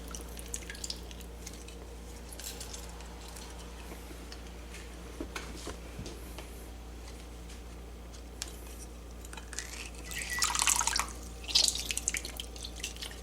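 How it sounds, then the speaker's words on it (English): A whole lime is squeezed by hand over rice for a pineapple-cilantro rice. Faint drips and small trickles give way to a brief, louder burst of juice and splashing near the end. "We're going to squeeze 1 whole lime into the rice"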